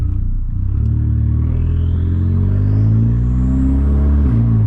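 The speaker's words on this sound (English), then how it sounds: "the whole car sounds incredible, guys. Like, you can hear the turbo so well." A Volkswagen Scirocco sits at a standstill with its turbocharged engine revving, a loud, close, deep exhaust drone that climbs steadily in pitch and dips briefly near the end.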